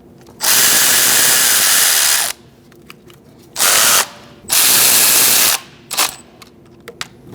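A power tool whirs in three bursts while tightening knock sensor bolts on a 2008-2014 Mercedes-Benz C300 3.0L V6 engine, loud and close, with small metallic clicks in the pauses between runs.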